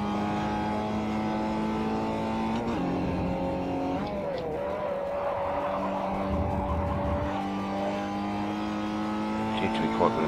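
Mazda MX5 lapping a track in Forza 4, the engine droning steadily with rising and falling pitch through gear changes, brief tire squeal on corners, and someone talking over it.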